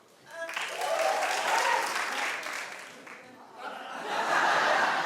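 A TV talk-show studio audience breaks into sustained clapping mixed with chuckles and laughter, swelling, dipping briefly, then rising again.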